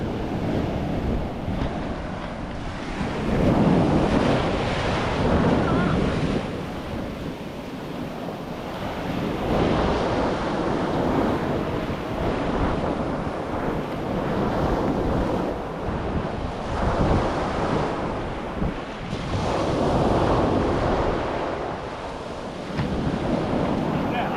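Ocean waves roaring onto the shore at Mullaithivu, a loud continuous surf with repeated surges breaking every few seconds, mixed with wind buffeting the microphone and no talk.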